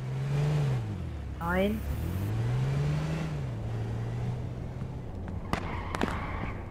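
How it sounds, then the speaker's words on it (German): A car in the online survival game H1Z1 drives along a main road, its engine droning and revving steadily underneath someone speaking German throughout. "Da fährt einer mit dem Auto."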